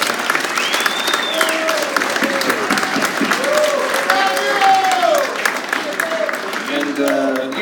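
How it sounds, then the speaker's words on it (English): An audience at a documentary screening and Q&A applauds the director, with sustained dense clapping from a crowd and some voices and cheers mixed in throughout. "Everyone give a round of applause for the director."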